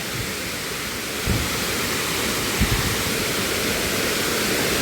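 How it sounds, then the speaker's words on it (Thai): At the top of Sai Yok Noi waterfall in Thailand, rushing water makes a loud, steady roar that continues unbroken, with a couple of brief low thumps near the start. "นี่คือด้านบนของน้ำตกสยโยกนะครับ"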